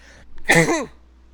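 A person with allergies sneezing once, close and loud, over a low steady background hum.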